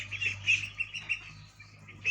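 Peking ducklings about eighteen days old calling on a duck farm, with faint, high, repeated peeps coming in short irregular bursts over a low steady hum.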